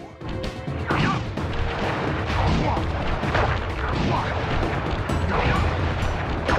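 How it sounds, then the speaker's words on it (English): A fireworks attack called Flame Foo from the Sly Cooper video game bursts into a dense, loud barrage of crackling explosions and crashes. It keeps up without a break for several seconds, with sharper blasts punching through the steady roar. "I will send you to your doom with the beauty of my new firework technique, Flame Foo."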